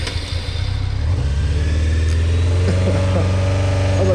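Honda CBR600F4 motorcycle engine with freshly rebuilt carburetors, revving loud and close under throttle, a steady low roar that builds and holds with rising harmonic pitch toward the end.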